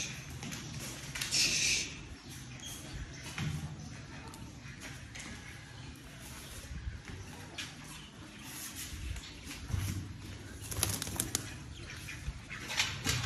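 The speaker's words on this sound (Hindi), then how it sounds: "मैंने अपने कबूतरों को भी बाहर निकाल दिया, अब ये आराम से अपना खाना खाना खाएंगे।" Pigeons flap their wings in bursts as they leave a safety room to feed outdoors, with a few faint chirps and some talk amid steady background noise.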